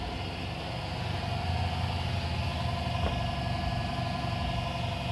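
A Nissan 350Z with an aftermarket single exhaust idles steadily, a low, even rumble with a slight pulsing throb held close and continuous, with no talk over it.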